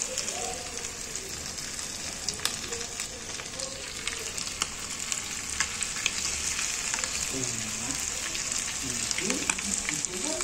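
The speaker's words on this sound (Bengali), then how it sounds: "সো এবার আমি একটা একটা করে ফ্রাই করব।" KFC-style chicken deep frying in plenty of oil, producing a steady moderate sizzle and bubbling with scattered crackles, close by, with faint voices and household sounds underneath.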